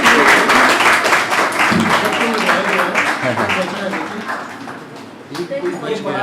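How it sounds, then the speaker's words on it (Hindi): Clapping from the audience at a Hindi story-writing workshop after a memento presentation, loud and close, mixed with talking voices that run over the applause for most of its length. "जोरदार तालियां"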